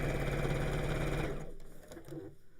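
Sewing machine stitching bag lining pieces, a steady fast mechanical whirr running loud for over a second before it stops, leaving quieter room noise and faint handling sounds.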